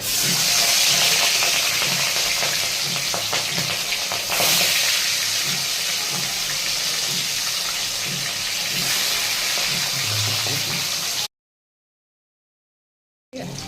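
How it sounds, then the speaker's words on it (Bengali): Mustard oil sizzles and hisses steadily in a pan as fish fry for several seconds, a continuous frying crackle, before the sound cuts out abruptly. "এখানে সর্ষের তেল আছে, এই মাছগুলো ভেজে নেবো তেল দিয়ে।"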